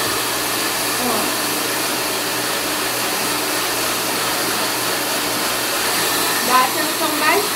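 A handheld hair dryer blows with a steady, loud whoosh while hair is brushed straight, the airflow constant throughout, with faint brushing scrapes and a few soft voice fragments near the end.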